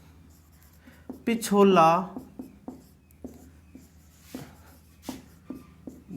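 Scratchy strokes of writing on a board, some short taps and some longer scrawls, close and clear, with someone talking over them in Hindi.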